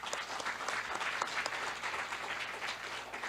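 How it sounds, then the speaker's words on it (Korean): An audience claps warmly to open a Korean forum on user-centred artificial intelligence, a steady, moderately distant wash of many hands throughout, with no voices on top. "다 같이 뜨거운 박수로 이 행사를 시작하겠습니다."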